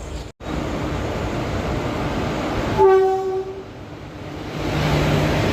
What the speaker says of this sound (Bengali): পাহাড়িয়া এক্সপ্রেস আসছে তাতে ঢুকছে প্রায় দশ মিনিট লেটে তাও আবার দু নম্বর প্ল্যাটফর্মে দিচ্ছে